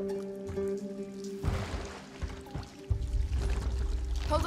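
A rowboat moves on water in A Plague Tale: Innocence, with soft musical tones first giving way to splashing, pouring water that swells again near the end.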